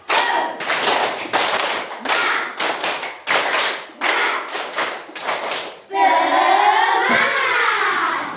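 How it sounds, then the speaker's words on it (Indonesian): A school class does a rhythmic 'tepuk semangat' clapping chant, sharp bursts of clapping in a patterned beat, ending with the children shouting together. "Tepuk semangat."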